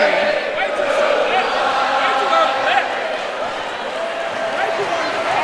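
A basketball crowd in a gym chants a refrain, a dense rhythmic mass of voices filling the arena while a commentator talks over it.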